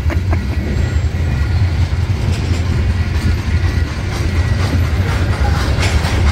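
A local freight train rolls past steadily at close range while a bus waits at the crossing, giving a continuous heavy rumble with rhythmic clickety-clack of wheels over rail joints.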